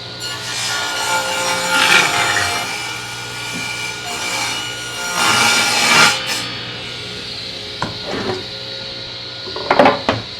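Hickory boards for rustic kitchen cabinet doors being cut by a saw: a continuous rasping cut with surges in strength, then a few sharp knocks of wood being handled toward the end.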